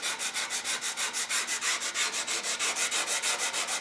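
Hand sanding of a wooden rifle stock with 100 grit sandpaper gives a close, steady, rhythmic back-and-forth hiss, with quick repeated strokes of even loudness.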